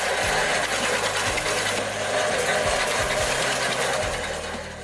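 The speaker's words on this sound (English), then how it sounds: "Cutting small pieces of firewood is no longer a challenge." A homemade automatic firewood processing machine cuts small pieces of firewood, giving a loud, continuous mechanical whirring and grinding with rapid rattling pulses throughout, close up and without talk.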